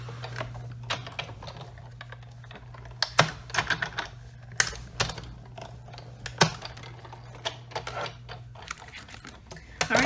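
A die cutting machine running cutting plates through for card making, a low steady motor hum for most of the stretch, with scattered clicks and taps over it, close and without speech.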